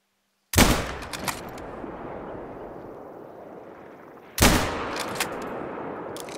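Two loud, sharp rifle shots at a raccoon in the hunting game theHunter on the Mississippi Acres Preserve map, about four seconds apart, each with a long reverberant tail that slowly fades.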